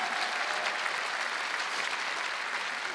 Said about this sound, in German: Und nochmal einen ganz großen Applaus für all die Menschen, die hinter der Bühne arbeiten.